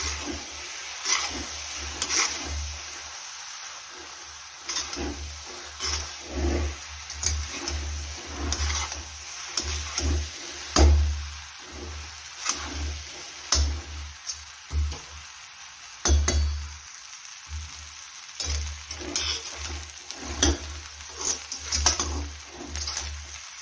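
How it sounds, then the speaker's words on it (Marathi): Leftover white rice is stirred into spices in a pan to make fried rice. A spoon scrapes and taps rhythmically against the pan, with a low background hum. "त्यामुळे आपण याचा फ्राईड राईस बनवायला घेतलेला आहे आणि आता सर्व मिक्स करून घेऊया"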